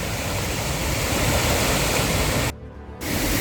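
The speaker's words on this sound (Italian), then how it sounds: "Guardate questa stupenda cascata" Steady, full-bodied rush of an Italian mountain waterfall on a hiking trail near Passo Tre Croci, loud and continuous, with a brief dip in intensity before the roar returns.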